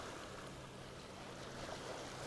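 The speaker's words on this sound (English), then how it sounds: "the waves just softly lapping" Gentle waves lap at the shore on a grey morning, a steady soft wash of water with light wind noise and no voices.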